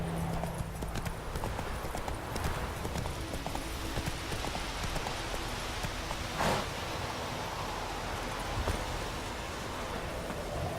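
Horse hooves clip-clop in a steady trotting rhythm in the video game The Witcher 3, sounding close and continuous over soft rustling ambience.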